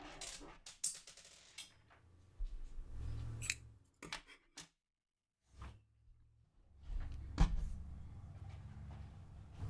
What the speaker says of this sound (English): I will cut this piece.